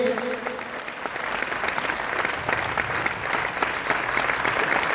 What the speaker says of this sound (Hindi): फिर से जोरदार ताली होना चाहिए